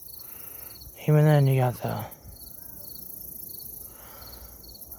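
Giant katydids chirp in a midday outdoor setting, a steady high-pitched buzzing that runs throughout while someone briefly speaks over it.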